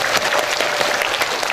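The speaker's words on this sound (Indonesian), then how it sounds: "Tepuk tangan dulu buat ibu ini." A religious-lecture congregation in Kundur, Karimun, Riau Islands gives a short, full burst of applause, many hands clapping close and steady for under two seconds.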